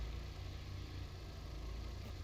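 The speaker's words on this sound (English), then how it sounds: "now we can hear the engine. Yeah, it's a freaking go-kart engine" Go-kart engine in the video game Scrap Mechanic, running at a steady drone with a constant low hum and hiss throughout, no pauses or talk.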